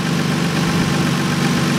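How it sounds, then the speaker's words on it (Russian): A 1998 Toyota Mark II JZX101 engine idles steadily while warming up, with a low, even hum and faint vibration, running continuously without revving. "Сейчас мы прогреваем двигатель, и у нас масло будет по горячую."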